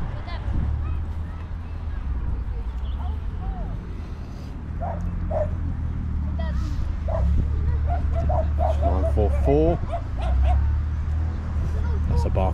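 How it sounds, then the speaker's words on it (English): A barky dog at an outdoor farm car and bike show, giving repeated short yips and whimpers over a steady low engine rumble and crowd murmur, with people talking nearby. "That's a barky dog."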